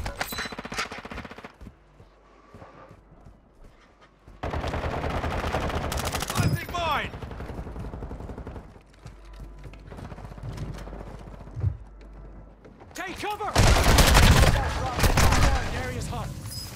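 Video game gunfire in a Fortnite-style battle royale match, with sharp bursts and rapid automatic volleys loud and close, mixed with mechanical clicks and ratcheting, between quieter stretches and a heavy barrage near the end.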